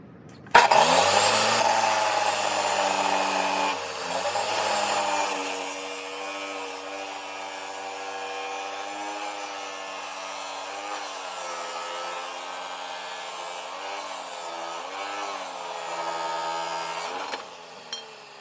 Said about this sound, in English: I just opened up my new chop saw, and I'm just gonna start cutting up the downpipe